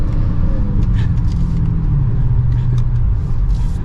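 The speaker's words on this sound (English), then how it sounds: "we get to have another acceleration here" A 2022 Dodge Charger SRT Hellcat Widebody accelerates, heard from inside the cabin as a loud, continuous low engine rumble whose pitch climbs steadily, with no talking.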